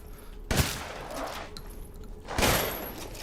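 Gunfire in the video game Resident Evil Village: two sharp, loud bursts of shots about two seconds apart, each trailing off into a rumbling decay, with no voices.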